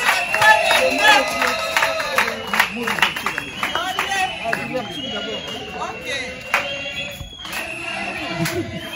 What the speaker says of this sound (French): Veuillez vous lever et applaudissez pour maman, s'il vous plaît.